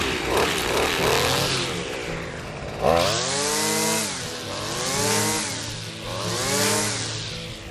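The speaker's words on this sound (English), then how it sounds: "I decided to do my own abrasion testing and run the string of the weed whacker into the" A gas string trimmer's line whips against leather work boots, the close engine whine rising and falling in repeated revving swells with a sharp scraping hit near the start of the second surge.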